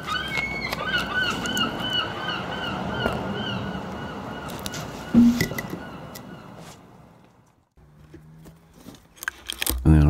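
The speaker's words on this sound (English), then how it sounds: "That's the gulls. I live near the beach." Seagulls calling near a beach: repeated harsh, honking cries sound over a steady background rumble, then fade toward a quieter gap before a sudden loud thump at the end.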